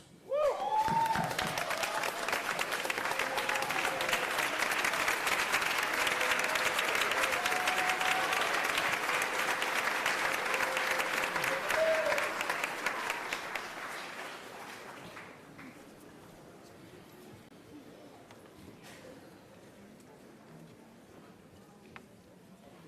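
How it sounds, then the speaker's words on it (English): A large audience at the Morris Brown College commencement in Atlanta gives a standing ovation, loud dense clapping with a few cheers sustained for about fourteen seconds before tapering off into scattered claps and quiet. "Please join me in giving them a standing ovation."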